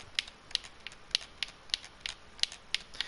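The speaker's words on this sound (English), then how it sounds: "If you guys can hear my control clicking." Game controller buttons click in a steady series of about ten sharp, evenly spaced taps, close and fairly quiet, with no talking.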